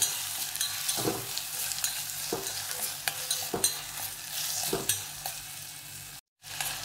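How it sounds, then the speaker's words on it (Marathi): Garlic and green chilies sauté in a pan for Rajasthani dal baati, a loud close sizzle punctuated by regular spatula stirs and scrapes, with a brief dropout near the end and no talking. "आणि लसूण आणि जे हिरवी मिरची ते सुद्धा टाकून घेते मी. चांगलं हलवून घेते."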